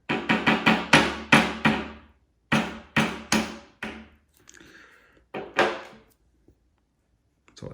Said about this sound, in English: I'm gonna use this hammer here, just to gently